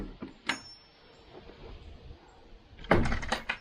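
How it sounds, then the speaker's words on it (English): A swinging door on a tall homemade deer blind is handled, giving a couple of light knocks before a louder rattling bang as it swings open. "that door is a swinging door"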